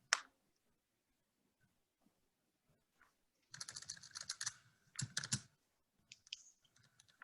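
Typing on a computer keyboard: a burst of quick clicking keystrokes, then a few shorter clusters of taps, close and clear against near silence, with no talking.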